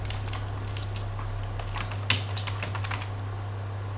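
Someone types a name on a computer keyboard. The key clicks come in a quick, uneven run with one louder tap partway through, all over a constant low electrical hum.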